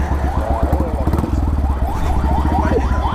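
Royal Enfield Classic 350 motorcycle fitted with a modified dual exhaust, idling close by with a loud, steady, rhythmic thump throughout.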